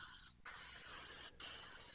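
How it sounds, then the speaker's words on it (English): Oil sprays onto the rough outer side of a dual-layer motorcycle air filter in two long, close, hissing bursts, separated by a brief pause. "Spray it down, oil it really heavy."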